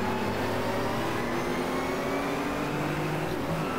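Engines of other race cars at the Craner Curves circuit drone loud and steady with layered whining tones, continuous with no pause.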